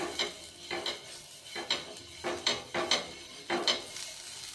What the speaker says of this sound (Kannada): ಈರುಳ್ಳಿಗೆ ಎಣ್ಣೆ ಹಚ್ಚಿ ಈ ರೀತಿ ಹಂಚಿಗೆ ಹಚ್ಕೋತೀನಿ